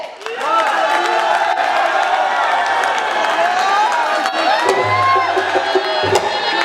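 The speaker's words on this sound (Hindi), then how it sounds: "भरपूर तालियों से इस्तकबाल कीजिएगा अली ज़ेब।" A festival crowd at the Islamabad Lok Mela cheers, whoops and claps to welcome the performer Ali Zaib onto the stage, a loud, steady roar of many voices with scattered shouts and a low hum underneath throughout.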